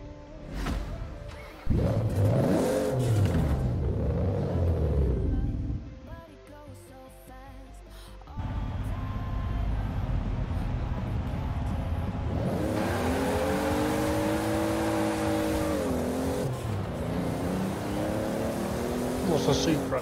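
A Toyota Supra in the Forza racing game, its engine revving up and down in loud surging sweeps, with a person talking over parts of it.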